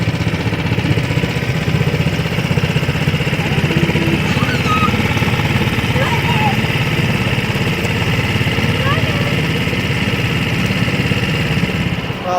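A dinghy's outboard motor runs steadily for the whole stretch, a loud, even mid-pitched drone heard up close on a grocery run along the Intracoastal Waterway.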